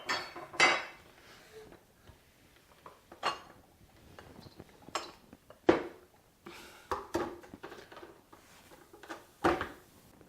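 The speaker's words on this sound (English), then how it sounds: "Now we'll set my blender up" Parts of a kitchen blender are handled and fitted together on a counter, producing scattered sharp plastic and glass clicks, knocks and clinks at irregular intervals with quiet pauses between, close and unaccompanied by talk.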